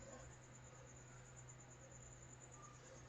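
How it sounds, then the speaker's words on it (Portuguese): A cricket chirps nearby in a quiet room, a faint, steady high-pitched trill that continues without a break and with no talk. "Literalmente tem um grilo aqui do lado fazendo cri, cri, cri, cri."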